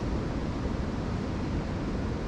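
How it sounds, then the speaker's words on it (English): Strong wind at a truck campsite makes a steady broadband roar of rushing air and microphone buffeting, holding at an even level with no talking. "Wind is still up."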